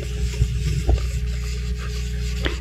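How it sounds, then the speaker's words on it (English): A soaked dye cube is rubbed over the hard, dry surface of a craft gourd, giving a steady, close, soft scraping rasp with a few small knocks and no talking. "I just rub it on the surface of my gourd"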